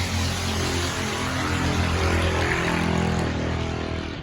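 A loud vehicle roars past nearby, a steady broadband engine drone with low rumbling harmonics that swells and holds for about four seconds before easing off slightly.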